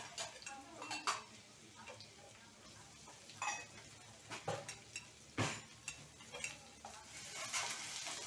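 Garlic, ginger and chillies sautéing in a hot pan, a faint background sizzle broken by repeated close spatula scrapes and clinks against the pan in an irregular rhythm.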